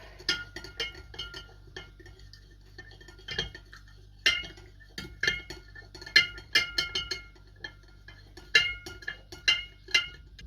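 A metal spoon clinks and scrapes against a glass jar while stirring salt into cold water, in irregular bursts, quick taps clustering together with short quiet pauses between.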